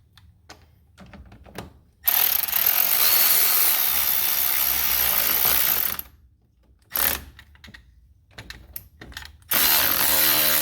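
A ratchet loosens the battery terminal bolt on a Dodge Dakota with a cracked, broken terminal connector, in loud, sustained bursts of clicking and grinding broken by short pauses and brief quieter spells.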